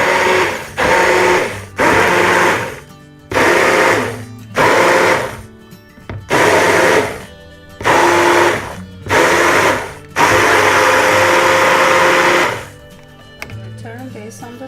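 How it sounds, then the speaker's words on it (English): Blender blending vegan cream of mushroom soup made with soy cooking milk, running in about nine short loud whirring pulses followed by one longer sustained run, close up and alone. "And then I'm gonna blend it some more."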